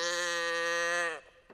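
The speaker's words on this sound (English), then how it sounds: "I think this is one of those sort of tinned cows that you can get these days." A tinned cow toy from the Project SAM Animator library gives one sustained, nasal, bleating moo that holds steady and then drops off sharply, close and clear, with no talking.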